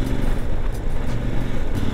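A KOVE 800 Adventure motorcycle engine while riding, a steady, loud rumbling drone mixed with wind rush, with no talking.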